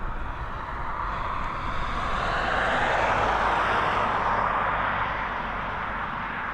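An Aer Lingus airliner moves at Dublin Airport, its engine roar building to a broad, steady rush that swells and then eases slightly, heard from a moderate distance with no voices.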